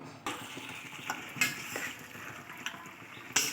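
Rice goes into a pot of hot water while mutton biryani is being cooked, heard as soft splashing and stirring over a steady bubbling hiss, with a few light clinks of utensils against the pot and no talking.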